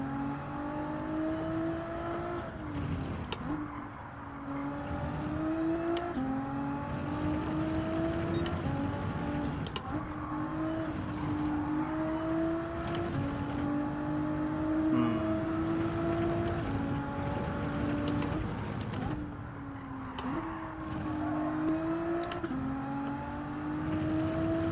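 A car driving in Gran Turismo 7 from a bumper camera, its engine note climbing repeatedly through the gears with brief drops at each shift, loud and steady throughout, no talking.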